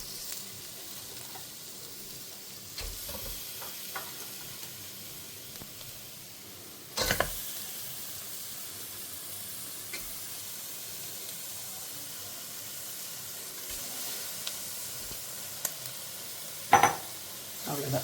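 Mutton head meat sizzles and fries in oil with masala for a South Indian-style curry, a soft, steady hiss broken by a few louder scrapes and clatters of stirring.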